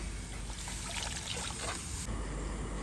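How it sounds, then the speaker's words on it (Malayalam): Water poured into a simmering masala for Kerala toddy-shop fish head curry, a soft trickling splash over about two seconds, then fading into a quiet kitchen background. "ഇനി നമുക്ക് ആവശ്യത്തിനുള്ള വെള്ളം ഒഴിച്ചു കൊടുക്കാം"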